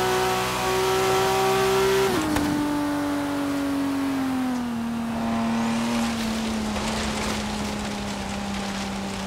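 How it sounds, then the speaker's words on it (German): Engine rumble from a car doing a burnout in Forza Horizon 3: a loud, continuous burbling growl whose pitch dips after a sharp onset and then slowly sinks, with tire noise mixed in and no talking. "Der hat dieses Bollern drin, was wir auch schon beim M2 gesehen haben oder gehört haben."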